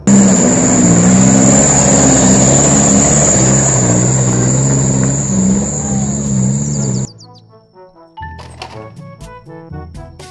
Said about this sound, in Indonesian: Mobil truk tangki bahan bakar minyak.